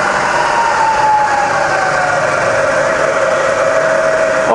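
Fully rebuilt Bridgeport milling machine running in low range, a loud steady mechanical hum with a clear whine that slowly drops in pitch as it winds down, continuous and close with no talking.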